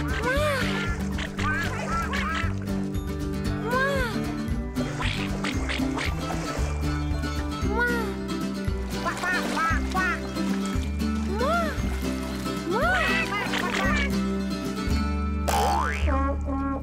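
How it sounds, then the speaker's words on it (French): Repeated cartoonish quacks ring out over bouncy music, each a short rising-and-falling honk, several in a row throughout. "trois petits coin-coin volent au-dessus de l'eau."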